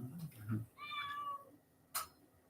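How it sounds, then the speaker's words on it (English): A caged cat gives a single clear meow at close range, preceded by low murmuring talk and followed by a brief sharp noise, all fairly quiet. "Meow."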